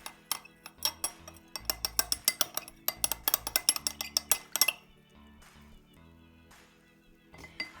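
Red and blue colored water being stirred together in a glass for a walking rainbow science experiment gives quick, close glassy clinks in a busy, uneven rhythm for several seconds, then stops into near quiet with a few faint taps.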